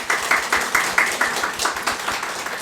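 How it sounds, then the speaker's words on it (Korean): A small church congregation at a year-end Sunday service claps together in a brief, rhythmic round, individual hand strikes clearly spaced and close by. "네, 우리 임명받은 모든 분들을 위해서 박수로 축하하겠습니다."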